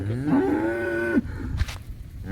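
A high-yield dairy cow at a farm selling quality milking cows near Davangere lets out one long, loud, close moo lasting about a second, followed by quieter barn sounds.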